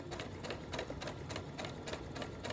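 A home sewing machine stitches a seam on a corset top, a soft, steady run of rapid clicking needle strokes, fairly quiet, with no voices.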